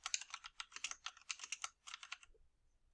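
Quick bursts of typing on a computer keyboard while text is entered into a WordPress field, close and quiet, with rapid clustered keystrokes that stop abruptly near the end.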